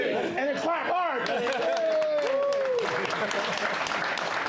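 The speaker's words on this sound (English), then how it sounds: "And then clap hard." Clapping and cheering from a conference crowd at a launch event, with a whistle-like tone rising and falling early on over voices, followed by a dense, sustained wash of applause.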